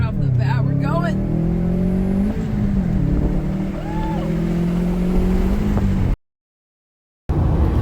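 A Subaru WRX STI accelerates hard with a throttle controller set to Ludicrous 5, its engine droning loud and close as the pitch rises steadily, with a voice speaking briefly at the start.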